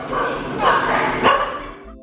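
A puppy barks and yips a few times close by, short high-pitched bursts mixed with whimpering sounds, with a person talking underneath.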